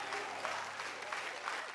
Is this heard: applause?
yes